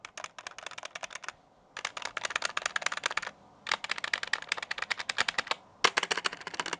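Rapid mechanical keyboard typing in several bursts separated by short pauses, close and crisp, with clacky keystrokes and unlubricated stabilizers rattling on the larger keys.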